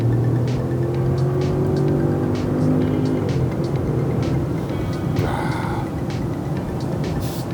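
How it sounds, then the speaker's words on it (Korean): Supercharged 4.4-litre V8 in a 530-horsepower Range Rover luxury SUV under hard acceleration, a loud, steady engine roar with rising harmonics heard from inside the cabin, no talking. "급가속을 한번 해볼게요."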